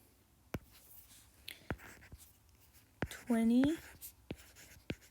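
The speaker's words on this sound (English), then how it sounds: "So here I'm going to write" Pen scratching out numbers by hand on paper in short, close strokes and taps, with a spoken word breaking in midway.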